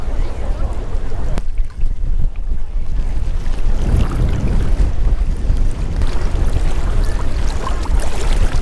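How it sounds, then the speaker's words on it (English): Strong wind buffets the microphone on a beach at Elafonisi in Crete, a constant loud rumbling roar with surf in the background and occasional voices beneath it. "It is windy."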